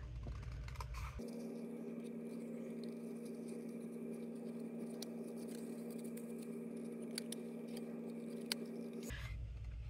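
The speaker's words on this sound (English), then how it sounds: "I'm gonna do that with my paper snips." Paper snips cut around a printed paper image for a handmade card, giving a soft, quiet run of small crisp snips and rustles over a steady background hum, with no voice.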